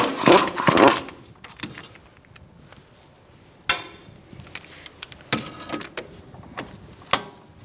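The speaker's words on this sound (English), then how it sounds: "Using a 19mm socket, we're going to take out these bolts for our caliper bracket" Ratcheting and clanking of a 19mm socket wrench loosening caliper bracket bolts on a Fiat 500, with a burst of rapid clicks at the start followed by scattered sharp knocks and short ratchet runs.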